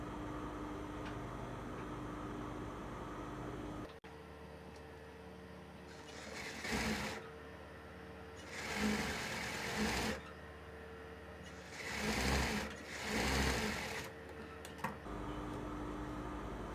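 Sewing machine stitching the lining of a blouse in short bursts, each loud whirring run separated by quieter pauses, close by, with no voices.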